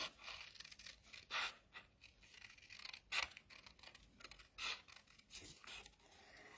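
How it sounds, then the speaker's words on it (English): Paper snips fussy cutting cardstock for a handmade card: a series of crisp snipping cuts at irregular intervals, close and fairly quiet, with no talking. "let's get my paper snips out, and we will fussy cut this now."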